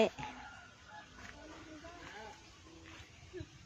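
Chickens cluck around a pen on a Thai mixed farm that also keeps ducks, cows and a rice mill, their short calls scattered and moderately close beneath someone talking through most of it.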